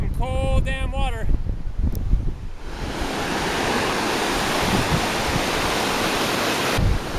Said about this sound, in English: we're crossing over the river here and then continuing on the trail